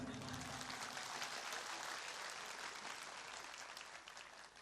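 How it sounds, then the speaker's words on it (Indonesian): Audience at an Islamic youth gathering and Quran recitation event applauds loudly, a dense steady wash of clapping that fills the whole stretch and tapers only slightly at the end, with no talk over it. "Kurang keras tepuk tangannya."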